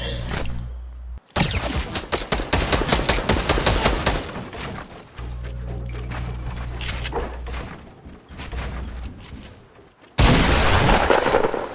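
Rapid video-game shotgun blasts fire in loud bursts, dense and close, cutting in and out with short pauses between volleys while a player shouts over them.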